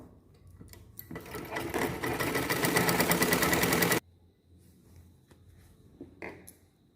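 A sewing machine stitching a blouse collar runs in one steady, rapid mechanical burst for about three seconds, close and fairly loud, then stops, leaving faint handling noises.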